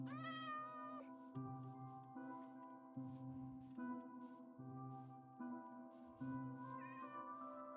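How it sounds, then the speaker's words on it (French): Minecraft cat meowing repeatedly in short, clear calls, several distinct meows in a row over a steady in-game background. "Le chat!"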